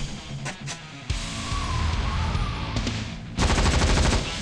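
Gunfire in the video game Free Fire, with bursts of rapid automatic shots, a long rattling stretch and then a louder dense volley near the end, close and prominent with no talk.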